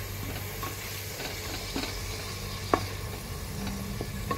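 Garlic and onion fry in a pan for mutton dal gosht, giving a soft, continuous sizzle broken by a few distinct spoon clicks against the pan.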